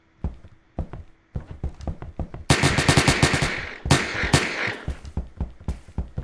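Gunfire in a Roblox video game: a few scattered single shots, then a loud rapid automatic burst, followed by more sharp repeated shots spaced irregularly, close and prominent with no talk.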